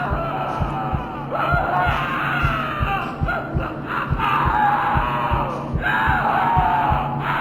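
Inside the horror game Fuel for Flesh, a person screams and yells in drawn-out cries over a pulsing low rhythmic thud, loud and fairly close, with no clear talk on top.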